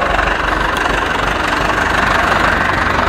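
An Ursus C 360 tractor engine runs up close in a field during harrowing, giving a loud, continuous, rough knocking drone with no voices.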